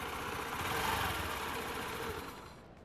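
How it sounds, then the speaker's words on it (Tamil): A motor vehicle engine hums steadily nearby as it arrives, a continuous mid-pitched drone that eases slightly toward the end. "அவன் வண்டி சத்தம் தான் நினைக்கிறேன்."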